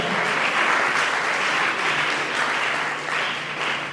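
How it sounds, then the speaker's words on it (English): An audience claps steadily throughout, a dense, sustained round of applause at moderate loudness with no talking. "If you understand what that means, you clap very well."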